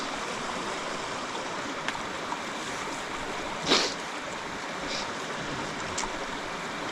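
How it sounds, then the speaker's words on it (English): A stream on the Appalachian Trail flowing steadily, a constant close rushing and burbling of water throughout with a few faint splashes and knocks. "This is an excellent water source for Riley to drink out of"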